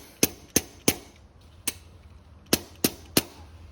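Sharp, clicky snaps from a hand-pumped grease gun forcing grease into a Crank Brothers Eggbeater Triple Ti bicycle pedal, seven crisp isolated clicks in an uneven rhythm, close and alone.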